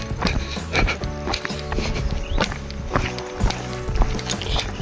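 A horse walks along a rural trail, its hooves clip-clopping in a quick, uneven rhythm of sharp knocks close by, with some rustling between steps.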